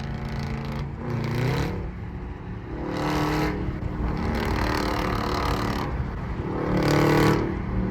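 A 2025 Toyota Camry SE AWD engine drones steadily while driving on a highway, its broadband road and motor roar swelling at intervals as it pulls and accelerates, loud and close with no talking over it.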